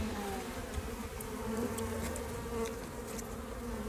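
Honey bees buzzing around an open hive, a dense, continuous close-up hum of many wings, steady and unbroken with no talking.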